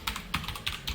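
Code being typed on a computer keyboard, with a few quick bursts of close, crisp key clicks separated by short pauses and no speech.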